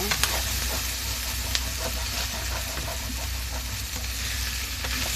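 Sautéed petchay being stirred in a pan, a steady close sizzle with scraping strokes of the utensil running throughout at an even level.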